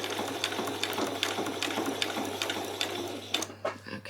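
A sewing machine runs a short back stitch while assembling a spring apron. It makes a steady, close mechanical whirr with rhythmic needle clicks and then stops near the end.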